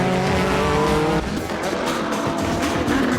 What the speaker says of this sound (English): The number 12 Calsonic Impulse Z moving up.